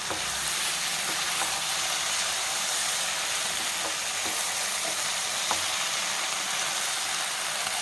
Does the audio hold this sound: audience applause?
no